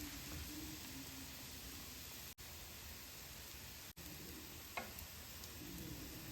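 Cheese-filled flatbread frying in a pan, giving a faint, steady sizzle like soft static, with one small tap or clink in the middle and no voices.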